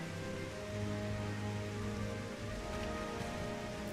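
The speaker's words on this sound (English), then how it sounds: "It's fucking raining in game" Steady rain falls in a video game, a soft continuous patter with a faint low musical drone beneath it and no voices.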